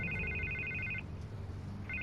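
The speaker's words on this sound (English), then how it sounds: "I can't get the phone to stop ringing." A telephone rings in the Batman Telltale Series game with a repeating electronic trill, one long burst, then a pause before it starts again, heard over a low background hum.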